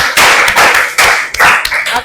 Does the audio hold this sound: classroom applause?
yes